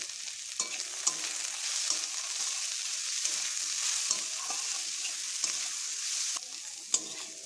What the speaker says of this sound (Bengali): বিনস আর গাজরটা আমার ভালো করে ভাজা হয়ে গেছে